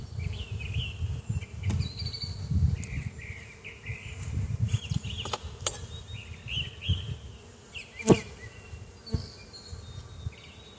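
Honeybees around an opened hive frame, with drones present, while an overwintered nuc is installed: a continuous low, close buzzing swarm with wingbeat hum rising and falling, scattered sharp clicks and taps, and faint bird chirps in the background.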